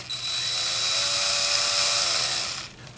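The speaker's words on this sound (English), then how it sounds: "Now we can drill the holes." A power drill bores a hole in the soft mahogany body of a Martin guitar during a pickup install, one sustained high whine that holds steady for a few seconds and then winds down.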